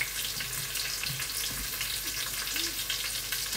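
Sizzle of a large pork roast searing in a pan, a dense continuous hiss close by and moderately loud, without pause.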